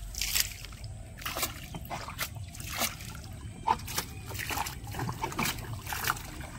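Water splashes and sloshes as someone bathes, in repeated uneven splashes and trickles at close range with no talk.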